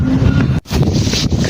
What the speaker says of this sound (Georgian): ქარია.